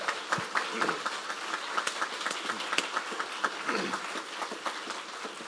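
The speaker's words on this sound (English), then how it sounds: "So give these guys a big round of applause and thank them for being here." An audience applauds the candidates at a city candidate forum in Rockwall: a dense, steady crackle of many hands clapping that holds at an even level throughout, with no talk over it.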